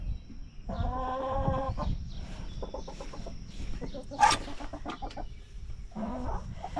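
Chickens cluck and chatter nearby in short repeated bursts, with a sharper squawk partway through, against a steady farmyard background.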